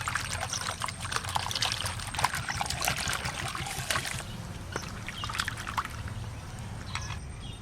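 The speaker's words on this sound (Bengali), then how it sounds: "লতিটা একটু ধুয়ে নেবো পরিষ্কার করে।" Kochur loti (taro stolons) being rinsed clean in water give a continuous close trickle and splashing, with small clinks and sloshes as the stems are handled.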